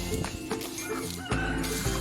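Free-range chickens cluck nearby in short, overlapping bursts over a busy background of outdoor noise.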